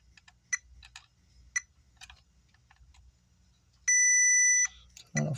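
A multimeter checking a diode on a power supply board gives one sustained electronic beep of under a second, preceded by scattered faint clicks and taps of the probes on the circuit in a quiet room.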